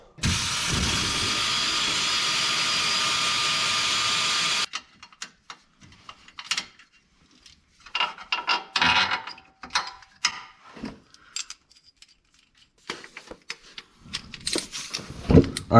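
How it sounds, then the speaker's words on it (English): A floor jack is worked under a Saturn car's transmission, giving irregular ratcheting clicks and metallic knocks, close by, after a few seconds of steady noise. "I'm going to use a floor jack on this one."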